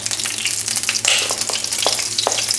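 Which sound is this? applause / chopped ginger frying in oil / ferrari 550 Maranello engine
chopped ginger frying in oil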